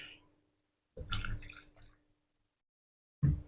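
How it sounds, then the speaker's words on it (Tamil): Water poured over chopped carrots and tomatoes for chutney, heard as one short close splash and gurgle followed by silence and then a brief thump at the end. "காய்கள் முங்கக்கூடிய அளவு தண்ணி ஊற்றிடணும்"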